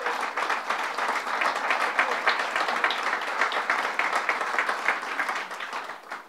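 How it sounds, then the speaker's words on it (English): Audience applause at a bill-signing event with the Governor of New York, steady dense clapping from a crowd that holds throughout and tapers slightly at the end. "Let's give Ruth a round of applause."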